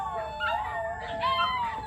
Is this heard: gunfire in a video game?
no